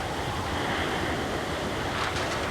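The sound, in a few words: storm surge waves pounding the coast during a hurricane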